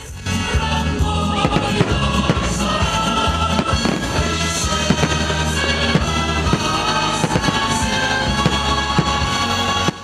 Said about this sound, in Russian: Завершился грандиозный праздник не менее грандиозным салютом.